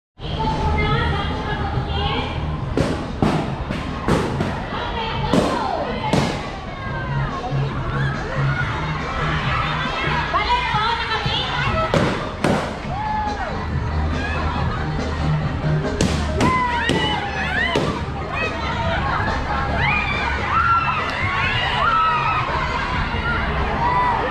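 Fireworks go off in central Hong Kong, sharp bangs and thuds popping irregularly in clusters over a busy crowd murmuring and cheering, with people talking nearby throughout.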